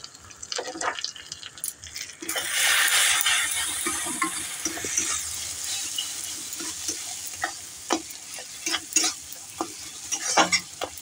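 Onions frying in a pan with Kissan tomato ketchup, a loud steady sizzle rising after a couple of seconds, with scraping stir strokes and clinks repeating on top; no talking.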